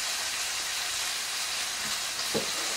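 Bacon cooking in a pan for a full English breakfast gives a soft, even, continuous sizzling hiss, with one brief low knock near the end.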